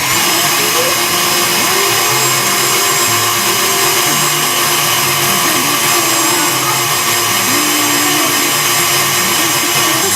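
An electric mixer whipping egg whites and granulated sugar at high speed for French macarons gives a loud, continuous motor whine with a rattling beater texture, holding steady throughout with no voices.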